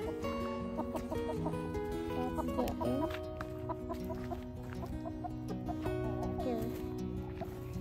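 Backyard chickens cluck and a rooster calls repeatedly at a farm in Washington, a steady busy chorus of close, fairly loud clucks with brief sharper calls throughout.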